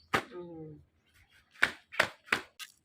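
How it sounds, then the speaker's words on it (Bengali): Knife chopping taro leaves on a board: a few sharp separate cuts, close and quiet, with a brief voice at the start. "এই পাতাটা কাটে দাও, তারপরে কুচি কুচি করে কাটে ধুয়ে দাও"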